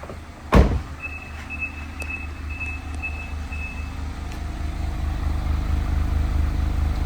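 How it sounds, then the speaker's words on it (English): A 2019 Mazda MX-5 Miata RF Grand Touring idles, its exhaust giving a low, steady rumble that swells slightly, after a brief click near the start and a thin electronic beep. "Let's go give a listen to those exhaust pipes"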